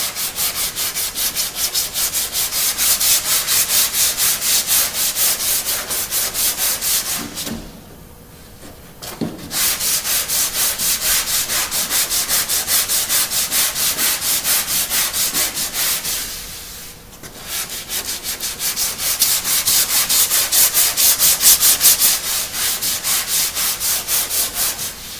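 Hand block sanding of Bondo body filler on a car body panel, fast rhythmic back-and-forth rasping strokes, close and loud, pausing twice briefly before resuming, no voices.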